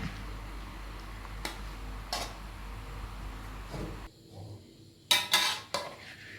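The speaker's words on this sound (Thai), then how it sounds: "จะลวนก่อนนะครับ ลวนให้มันสุก แล้วก็ลวนไปเรื่อยๆ นะครับ" Eel stirred and cooked in a pan for a spicy Thai stir-fry: sporadic metal spatula clinks and scrapes against the pan over a low background din, with a sharper cluster of clatters toward the end.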